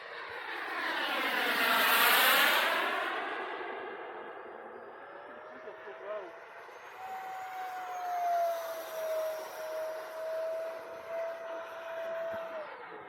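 An RC jet turbine runs at full throttle on a Freewing turbine conversion model in flight, a loud whining roar that swells, fades and rises again as the plane passes, with a steady high tone sustained throughout.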